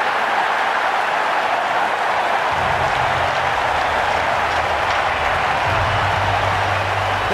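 In the Ashes Cricket 19 game, a stadium crowd roars in a loud, steady wash of cheering during a Chennai Super Kings vs Delhi Capitals match, and a deeper rumble joins partway through.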